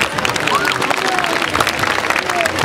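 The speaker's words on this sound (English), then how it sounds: "I want to applaud you and your students" At the 2009 Macy Intermediate School award ceremony, an audience applauds students' perfect attendance with dense, continuous clapping, with voices mixed in.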